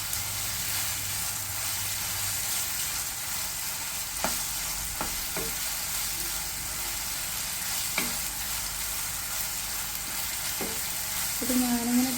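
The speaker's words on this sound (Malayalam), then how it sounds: "ഇത് ഞാനിങ്ങനെ തീ കുറച്ച് വെച്ചിട്ടാണ് വറുക്കുന്നത്" Food fries in a pan over a low flame, giving a steady soft sizzle broken by occasional clinks and scrapes of stirring.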